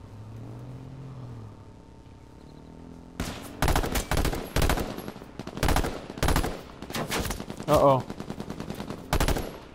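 Light machine gun fire in the H1Z1 battle royale game: after a quiet stretch with a vehicle engine humming, loud rapid bursts of automatic gunfire crack out in uneven clusters, close and punchy, with a brief spoken exclamation.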